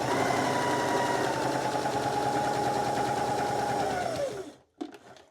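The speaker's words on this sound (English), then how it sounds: "So I'm sewing the collar together" A sewing machine runs at a steady, even speed while stitching a shirt collar, humming loudly and alone for about four seconds before winding down to a stop with a brief clack.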